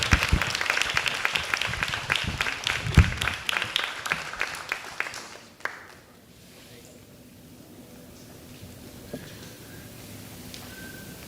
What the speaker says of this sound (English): So give another round of applause to our student of the month,